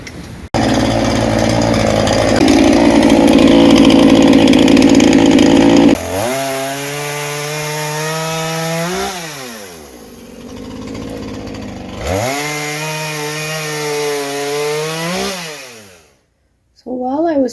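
A chainsaw cuts and trims tree branches at home, starting with loud, close cutting under load, then revving and easing off in repeated rising and falling whines before shutting down.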